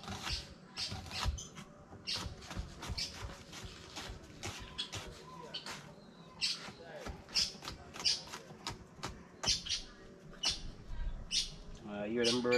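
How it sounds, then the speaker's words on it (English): Birds calling from up in a tree outdoors during a fishing trip, with frequent short chirps and squawks scattered throughout, fairly close and steady, mixed with clattering handling noises. "Hear them bird up in the tree."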